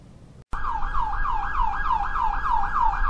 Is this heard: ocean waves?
no